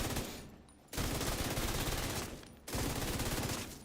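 Sustained automatic gunfire from a weapon in The Division 2, loud and close, firing in two long rapid bursts separated by a brief gap.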